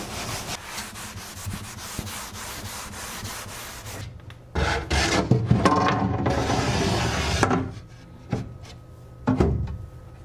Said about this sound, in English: Give that paste wax about 10 minutes, and then you can buff it.